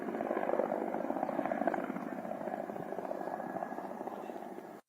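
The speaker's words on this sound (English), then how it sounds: "it's very nice to see those beautiful Ukrainian Mi-24s in operation" Ukrainian Mi-24 attack helicopter in operation, a steady rotor and engine drone with a continuous buzzing throb, fairly loud and constant throughout, slight fade at the end.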